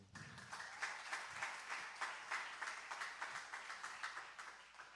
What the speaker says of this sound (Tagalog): Matamlay ang palakpak natin.